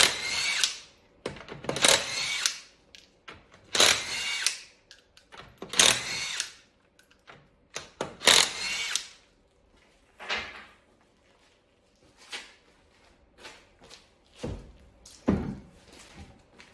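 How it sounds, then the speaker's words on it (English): Short, loud bursts from an impact tool with quiet gaps between them as 21mm rear wheel lug nuts come off a Lexus RX350, each burst ending in a clunk. "Remove the rear wheels using a 21mm socket."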